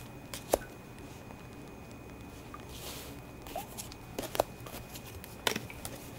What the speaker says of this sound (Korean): 2장의 카드를 더 뽑아보겠습니다.